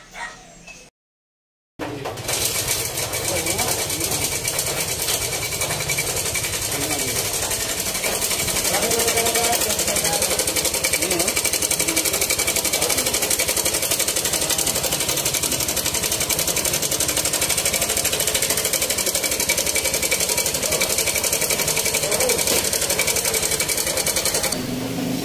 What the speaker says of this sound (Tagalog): pakinggan niyo pong mabuti yung ingay ng kanyang motor